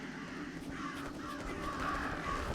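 Crows caw several times in the game Jenny LeClue, harsh repeated calls over a quiet ambient bed, moderately distant and faint.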